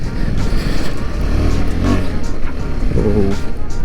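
A KTM 390 Adventure motorcycle engine hums steadily at close range with a rough, continuous road roar and no sharp revving, while a voice talks briefly over it.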